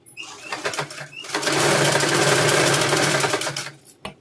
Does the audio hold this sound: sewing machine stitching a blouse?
yes